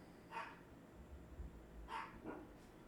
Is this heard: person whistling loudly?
no